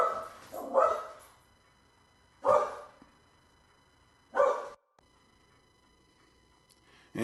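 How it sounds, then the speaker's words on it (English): A dog gives three separate bursts of loud, close barking, each a quick pair or cluster of barks, with quiet pauses between them. "She barks when people come to the door, then she barks when they drive away again."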